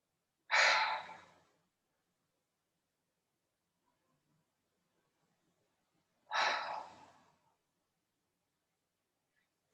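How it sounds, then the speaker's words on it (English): Two slow, deep breaths drawn in and pushed out through the mouth during a pranayama breathing class, each a soft breathy rush lasting about a second, separated by several seconds of near silence. "Breathing in through the mouth, breathing out through the mouth."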